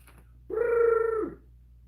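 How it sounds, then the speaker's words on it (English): A single short, nasal, tonal cluck-like call from a pet chicken said to like tortillas, close and alone against a quiet background. "She's a Mexican chicken."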